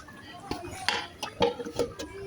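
Metal spoon stirring a meat curry with egg and potato in a pot, giving scattered clinks and scrapes against the pot with soft rustling in between, fairly quiet and close.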